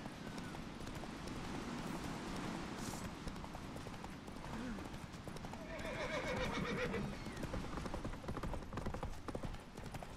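Roach the horse galloping in the video game Witcher 3, rapid rhythmic hoofbeats with a whinny midway, moderately loud, with game voices and speech over the top.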